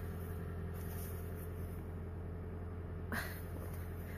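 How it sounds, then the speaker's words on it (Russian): A car engine runs at a steady idle on a snowy day, a continuous low rumble with an even hum, close by and without speech; one brief rustle occurs near the end. "Сейчас я машину включу."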